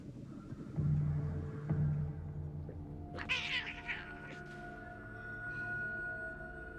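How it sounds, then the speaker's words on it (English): A cat meows a couple of times within a film's soundtrack, a clear drawn-out cry partway through over low ambient rumble and faint tones. "It's only a cat,"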